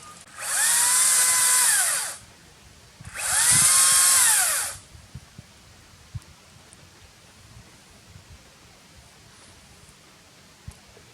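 A chainsaw cutting vines revs loudly in two long bursts a second apart, then cuts out, leaving quiet outdoor background with a few faint knocks.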